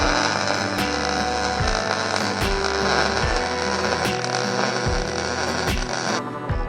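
A welder joins a cut-out piece back into the trunk pan of an AWD Dodge Neon build. It makes a loud, steady, crackling buzz with a low throb that runs the whole time, and no one talks.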